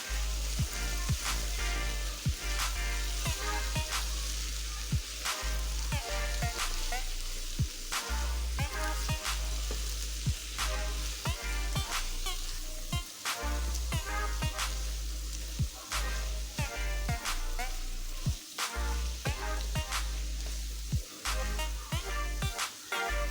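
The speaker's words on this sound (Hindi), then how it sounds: "ये आलूओं को अच्छी तरह भून के थोड़ा देर दम लगा देंगे।" Potatoes frying in a spiced masala for aloo bharta, a continuous loud sizzle with frequent sharp scraping and clinking strokes of a spoon stirring, no talking.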